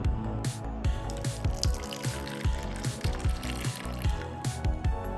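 Warm milk poured over yeast for butter naan dough, a continuous close trickle with repeated soft splashing drips in an uneven rhythm.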